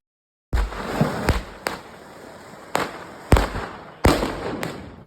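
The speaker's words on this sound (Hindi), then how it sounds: "फिर फोड़ते हैं आतिशबाजी।" Diwali fireworks and firecrackers burst one after another in sharp, loud cracks, about six or seven separate bangs with short gaps between them, each followed by a brief decaying rumble.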